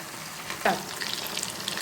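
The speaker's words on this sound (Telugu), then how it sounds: "మనకి చికెన్ పకోడీ ముక్కలు ఉడికి వేగాయండి, బాగా గోల్డెన్ బ్రౌన్ కలర్ వచ్చినాయి" Chicken pakodi pieces fry in AMC cookware, giving a steady close crackle and sizzle, with one brief stir or clink partway through and no voices.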